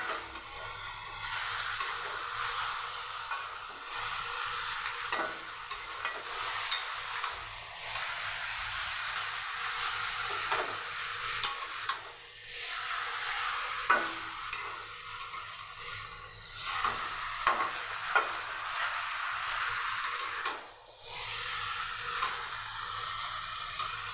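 Chicken being fried with onions in a pan, a soft continuous sizzle and hiss with intermittent scraping and clatter of stirring throughout.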